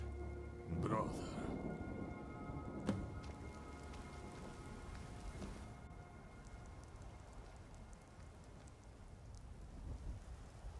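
Rain falls in Skyrim with a soft, continuous hiss and patter, a couple of sharper low rumbling knocks early on, and faint voices murmuring beneath the steady downpour.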